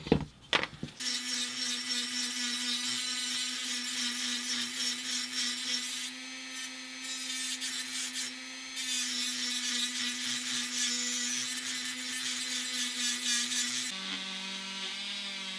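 A small rotary tool grinds away the license plate holder on a 1:18 scale 1973 Trans-Am model car: a continuous high whine with brief dips, easing and shifting pitch near the end.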